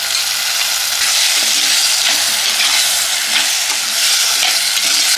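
Cut potato and eggplant fry in a pan, giving a loud, constant sizzle with crackling oil close to the listener and no talking.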